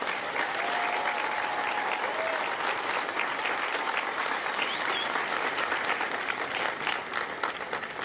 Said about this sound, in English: Please join me in a round of applause for the company staff of Lima Company.